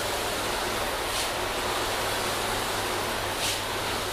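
Steady hiss of water spraying over a car to rinse off sealant residue, a constant broadband rush throughout with a couple of brief bursts of extra splash.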